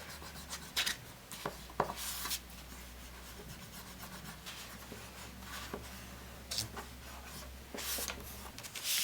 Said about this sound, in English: I'm just going to erase where the lines were.